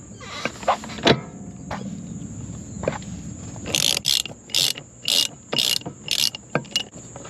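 Driveshaft bolts being removed on a Ford Mustang S550 with a ratchet, giving close, loud bursts of rapid clicking in repeated short runs, after a few scattered metallic knocks and clanks.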